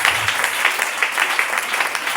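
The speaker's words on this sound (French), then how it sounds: "Oh, acclame Jésus" A church congregation applauds with continuous, dense clapping from many hands, steady and fairly loud throughout, with no clear speech.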